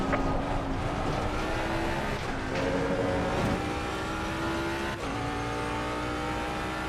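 In a racing video game, a race car exits the pits with a steady, loud engine drone that rises in pitch through several gear changes, alone without talk.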